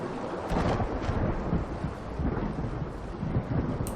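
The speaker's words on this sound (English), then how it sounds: "Also sounds a lot like thunder." A deep, rolling, thunder-like rumble surges underwater in the video game SOMA, broad and continuous with a few swells, loud and enveloping with a hissing wash on top and no speech.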